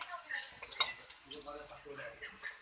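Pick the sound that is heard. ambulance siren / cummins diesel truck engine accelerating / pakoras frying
pakoras frying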